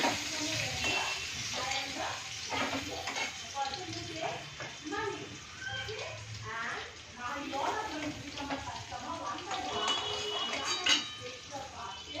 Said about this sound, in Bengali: এবারে বড়ি ভেজে তুলে নেব।